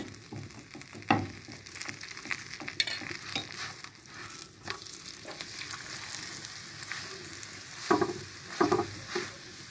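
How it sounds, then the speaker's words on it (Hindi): Mooli paratha frying in ghee on a flat pan, a soft steady sizzle close by with scraping and pressing strokes and a few louder bursts near the end, no talk. "ये जी हम लगाएंगे अब घी"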